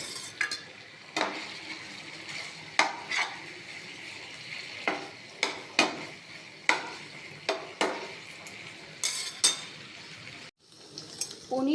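Paneer sautéed with spices in a pan: a regular series of spoon scrapes and taps against the pan over a low, soft frying sizzle, close but fairly quiet, with no talking.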